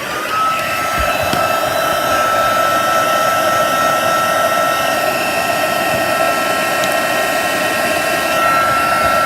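Heat tool blowing steadily to melt embossing powder, a loud, continuous whirring hiss with a high motor whine that runs unbroken the whole time, with no voices.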